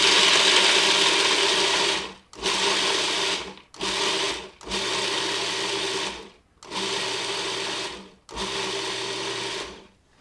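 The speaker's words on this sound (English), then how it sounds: "I'll put them in the food processor" Food processor pulsing walnuts down to small sand-sized granules, loud whirring grinding in six bursts of one to two seconds with short gaps between.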